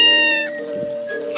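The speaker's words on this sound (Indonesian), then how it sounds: "terlihat seekor kucing yang tampak kurang terawat berlari mendekati si kucing kota itu" A cat meows, a drawn-out tonal cry like a scruffy, poorly cared-for stray calling out, loud and close, heard alone with no voices over it.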